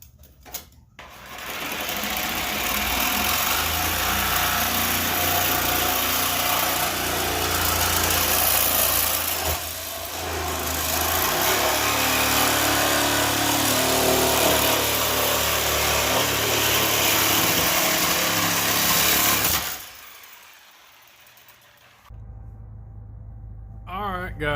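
Power saw cuts steady and loud through the shock tower of a Foxbody Mustang for about twenty seconds, with a brief pause near ten seconds, then cuts off into quieter shop noise and a short voice.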